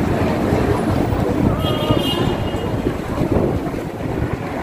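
Outdoor wind in Hong Kong buffets the microphone with a loud, constant low rumble and gusty roar, with a faint voice and distant city sounds underneath.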